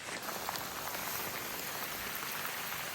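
Steady, dense rain pours down while crossing a suspension bridge on a mountain hike, a continuous close hiss of drops with no break.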